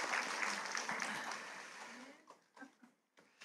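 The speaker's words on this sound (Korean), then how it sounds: "우리 다시 한번 격려의 박수 한번 하겠습니다." Church congregation clapping in encouragement at a dawn revival service, a dense patter that fades out after about two seconds, followed by scattered faint speech.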